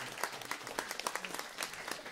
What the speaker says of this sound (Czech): Zatleskejte si za to ještě jednou.